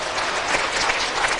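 Church congregation clapping during a Korean sermon, a brief burst of dense, even applause filling the whole moment with no speech over it.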